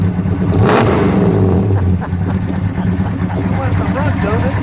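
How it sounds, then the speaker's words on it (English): A yellow 1966 Dodge Charger with a 426 Hemi V8 revs hard once near the start, then settles into a loud, lumpy idle with a rocking rumble, as people talk nearby. "Now give it one good rev."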